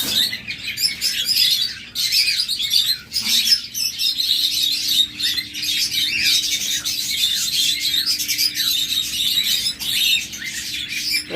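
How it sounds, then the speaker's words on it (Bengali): Many small caged birds, paired birds kept for sale, chirp and tweet continuously in a dense, busy chorus, close and fairly loud, with a steady low hum underneath and no talking. "দিকে ঘুরে থাকে পাখিগুলো ভালো করে দেখাইতে পারি না"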